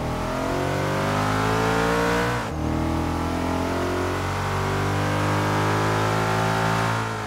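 Porsche Panamera Turbo engine in Forza Horizon 3, revving loud and deep with a steady rising drone, a brief dip midway before the engine climbs again, with no talk over it.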